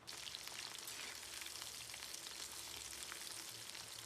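Paneer pieces frying in hot oil over medium flame, a dense, steady sizzle with fine crackling spatter, close and continuous with no talking.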